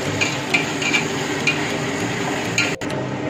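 Ginger, garlic, mint, coriander and green chillies frying in a pan for biryani, giving a steady close sizzle with a few light clinks of stirring.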